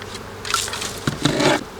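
Honey bees buzzing in a cluster while frames of nurse bees are shaken during a spring hive split, a close, steady insect drone with louder swells in the middle and toward the end, no talking.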